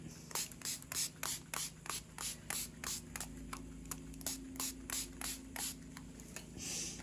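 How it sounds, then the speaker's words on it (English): Short repeated hisses of a spray can, about a dozen quick bursts in a steady rhythm, close and fairly quiet. "Now we're just spraying a little bit of different color on it."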